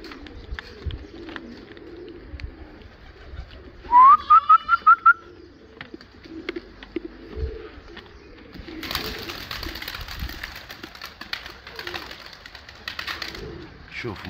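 Turkish pigeons outdoors give a short, bright, rising whistling call partway through over low background noise, followed later by a long stretch of broad rushing sound; faint voices murmur in the background.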